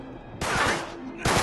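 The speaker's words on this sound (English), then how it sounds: "where am I getting shot at now?" Video game gunfire in Uncharted 3, two loud bursts of rapid shots with a quieter stretch between them, close and harsh, with no talking.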